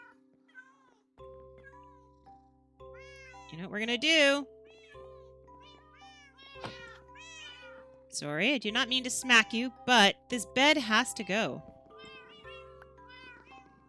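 Cats meowing in Minecraft Java Edition 1.14.2, a few short tonal mews in single-player survival, with a person talking over and between them at close range.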